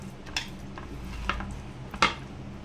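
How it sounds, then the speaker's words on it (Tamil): A spoon scrapes and clinks against a pan every second or so while thick red chili paste for frying sardines is stirred, over a soft background hum. "நல்லா கிளறிக்கலாம்."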